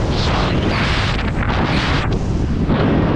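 Strong wind on a mountain trek up Kondarangi hill, about 3825 feet high, roaring loudly and steadily against the microphone as a dense rushing buffet.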